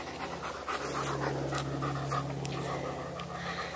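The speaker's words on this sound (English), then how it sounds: "So sorry, my dog does this." A dog pants rapidly and steadily close by, quick rhythmic breaths continuing throughout.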